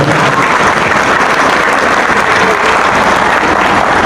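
Loud, dense crowd applause at a Ramadan event in Istanbul's Sultangazi district, steady unbroken clapping from a large audience close by for the full length, with no talk over it.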